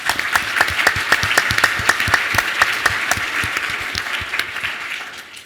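Ballroom audience at a tech space pitch competition applauds a presenter from ISS Cases with rhythmic, fairly close clapping, a few louder hand claps standing out before it tapers off.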